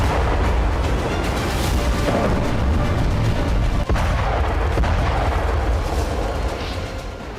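A massive, continuous explosion from a destructive bomb, loud deep rumbling roar filling the whole clip, with a sharp crack partway through before the blast slowly fades.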